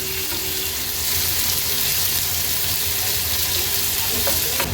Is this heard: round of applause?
no